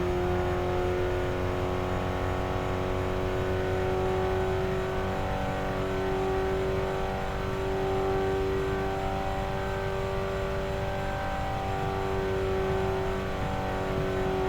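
A race car engine in the RevHead video game holds a steady high-revving drone with a layered harmonic whine, running continuously and fairly loud with no voices.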